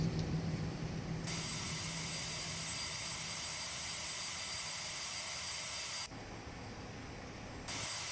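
Airliner jet engines roar steadily from inside the cabin, a loud broadband whine and rumble that holds on through the takeoff roll, with a brief dip in level near the end.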